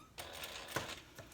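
A sewing machine stitches down the side of an internal zipper on a handbag pocket, a short close whirring run of needle strokes with a brief pause and restart.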